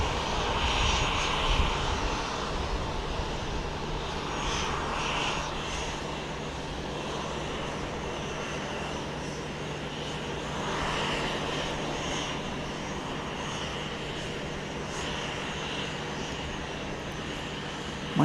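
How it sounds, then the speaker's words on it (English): A Southwest Boeing 737 Max 8 jet, flight 2581 from Nashville, at Dallas Love Field at night, producing a sustained engine roar with a steady low hum and shifting whine, moderately loud and without speech. "This is flight 2581 southwest from Nashville, Max 8"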